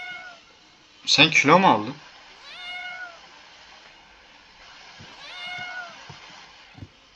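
A cat meows loudly in a quick burst of several cries, followed by softer mewing later, with a person speaking briefly nearby.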